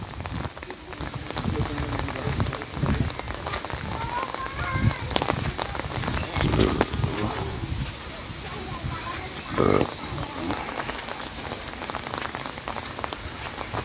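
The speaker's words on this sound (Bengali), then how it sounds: "বৃষ্টি কীভাবে পড়ছে দেখাও বৃষ্টির আওয়াজ শোনা যায়" Rain falls steadily on surfaces in Cumilla, Bangladesh, a constant fine patter filling the scene while voices talk intermittently over it and a few louder knocks stand out.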